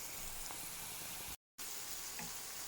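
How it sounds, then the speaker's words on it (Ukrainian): Carrots and onions fry in a pan with a steady, even sizzle and fine crackle, faint and close, broken once by a brief moment of silence. "смажиться морква з цибулею"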